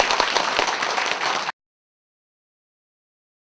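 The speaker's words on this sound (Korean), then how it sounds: "다 같이 박수로" A crowd applauds at a Buddhist temple New Year dharma service honouring the attending monks. The dense clapping is fairly loud for about a second and a half, then stops abruptly into silence.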